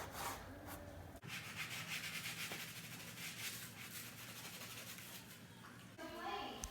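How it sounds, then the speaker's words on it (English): A brush scrubs grout residue off stone veneer on a refaced tile fireplace, giving a steady, close rasping rub that runs continuously under low background sound. "so I'm going to scrub it a little bit. Get it off of my stone."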